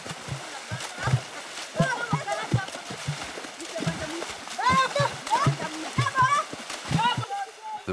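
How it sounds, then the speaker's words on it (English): Irregular splashes and slaps on water, repeated in bursts, with voices calling and chattering throughout. "Others just enjoy splashing around."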